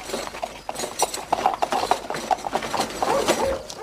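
Horse hooves clip-clop in a quick, uneven rhythm close by, the sharp knocks repeating steadily over a quiet outdoor background.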